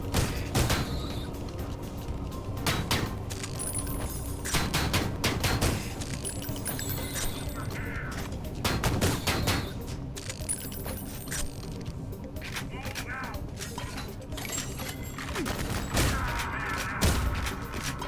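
Bombs and gunfire burst repeatedly in a Shadowrun: Dragonfall CRPG battle, sharp broadband blasts landing every second or two over a steady, dense layer of combat clatter, loud and continuous throughout.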